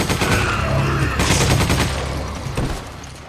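Machine gun fire in the video game Resident Evil 5: loud, rapid bursts of automatic shots close up, with a sharp bright burst midway, then trailing off slightly toward the end.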